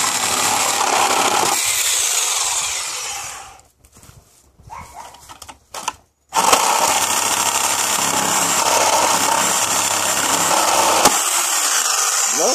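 A loud power saw grinds steadily through a wooden pallet, drops away briefly mid-cut, then roars back and runs continuously to the end.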